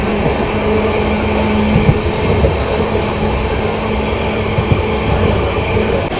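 A Saptagiri Express LHB train from Chennai to Tirupati runs along the track through a big curve, a loud steady rumble of wheels and carriage noise with a faint thin squeal running beneath it and no talking.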